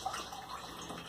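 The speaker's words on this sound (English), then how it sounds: "it's currently catching water, pushing water out the top right here." Water runs steadily from a shower through a Moen 3372 three-function diverter valve, a soft continuous hiss and splash heard fairly faintly and alone.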